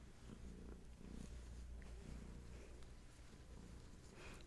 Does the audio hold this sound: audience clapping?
no